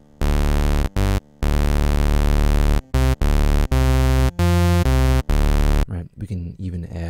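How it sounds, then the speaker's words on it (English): A sawtooth wave layered with a sine sub bass an octave below, played on the Xfer Serum software synthesizer, sounds as a series of loud sustained buzzy notes with short gaps between them, followed by a voice speaking at the end. "we have our saw wave here, and we will want to add a bottom end to it. So we can add a sine wave"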